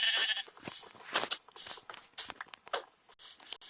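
Sheep in the Minecraft video game bleat several times in short, bright bursts, fairly close and with no talking over them.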